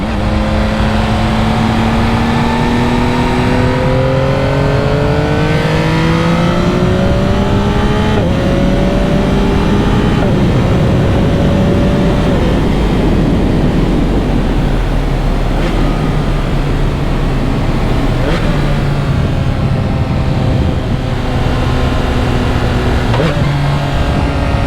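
A 2025 Yamaha MT-09 SP motorcycle on a ride, its engine loud and close as it revs up through the gears again and again in rising sweeps, with gear shifts and steady road and wind roar throughout.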